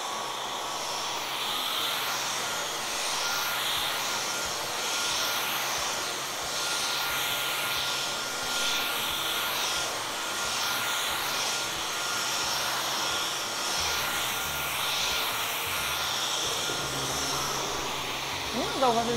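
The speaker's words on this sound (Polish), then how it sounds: "w zależności od tego odkurzacz dopasowuje siłę ssania" A Dyson V11 Absolute cordless vacuum cleaner runs steadily and close, giving a loud, high whining hum that keeps going for a long stretch with slight changes in suction power.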